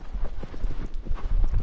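A horse in Shadow of the Colossus gallops with fast, loud, rhythmic hoofbeats, its pounding stride close and steady across the short moment with no talk.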